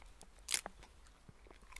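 Pet rabbit nibbling a dead leaf, close soft crunchy bites with one louder crisp crunch early on, then faint scattered chewing.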